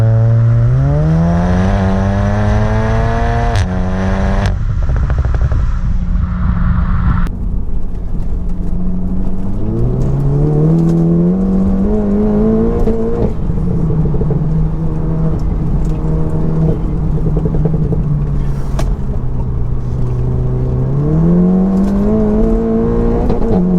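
A front-wheel-drive Seat Cupra making over 500 hp accelerates hard, its engine note climbing and dropping through repeated loud revving sweeps as it pulls away. The engine stays close and dominant throughout, with no voices.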